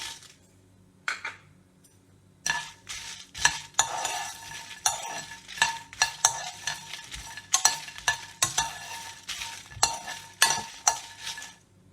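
Dry red chillies fry in a pan for an Andhra-style stuffed brinjal masala curry, with a string of close metallic scrapes and clinks from stirring, spaced irregularly over a soft sizzle and with no voices.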